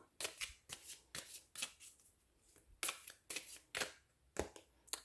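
Tarot cards are shuffled by hand in about a dozen quick, crisp riffling bursts with short pauses between them, close and clear with no talking.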